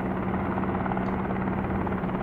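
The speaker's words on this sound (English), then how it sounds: "Let the helicopter balance itself out a bit." A helicopter engine and rotor in the video game Helicopter Simulator, a steady loud droning hum with a constant low tone, with no talking.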